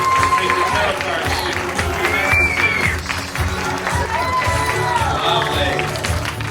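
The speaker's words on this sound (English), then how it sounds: "Give these 3 a huge round of applause." A live audience at a psychic comedy show applauds for three performers, with loud, dense clapping and some cheering sustained throughout, under a host's voice.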